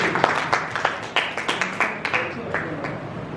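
An audience claps to welcome a speaker to the stage at an academic faculty development program, producing a short burst of applause with distinct individual claps. The applause is moderately loud and mixed with background voices.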